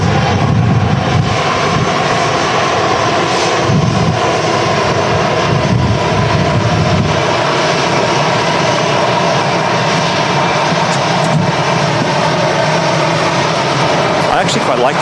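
An airliner at Manchester Airport in strong storm crosswinds, its engines making a loud continuous roar with wind rumble throughout while people talk over it.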